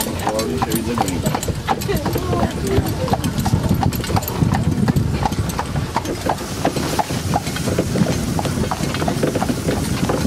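Hooves of a horse named Seldom Fred clip-clop steadily as it pulls a jaunting cab through Killarney National Park, a continuous near rhythm of hoof strikes with people talking over it.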